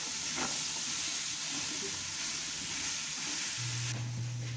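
Meat, onion and chickpeas sauté in a pan for Moroccan couscous, giving a steady close sizzle and hiss throughout, with a low hum entering near the end.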